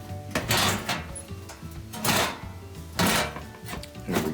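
The bottom panel of a gas oven slides out toward the front, making several close metallic scrapes and clunks in separate bursts with short pauses between them.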